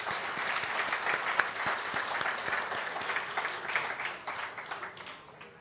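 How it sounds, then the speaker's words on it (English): An audience at an award ceremony applauds the organizers, a broad steady wash of many hands clapping from a fair distance, holding for several seconds before thinning out near the end. "Let's give a big hand of applause to all the organizers."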